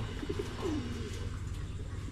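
Pigeons coo softly inside a breeding loft with young birds, a brief low coo over a steady rumbling background, faint and fairly close, with no voices.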